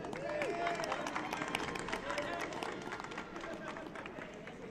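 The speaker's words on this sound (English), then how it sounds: "One more round of applause for Daniel Carmona." A crowd at the MLS NEXT Cup soccer final between Total Futbol Academy and Barca Residency Academy applauds official Daniel Carmona with steady, mid-distance clapping, over a voice talking and a background of crowd murmur.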